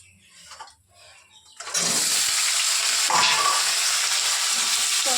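Vegetables tipped into a hot pan of cooking meat burst into a loud, close sizzle that holds steady after a quieter opening of pan and kitchen noises.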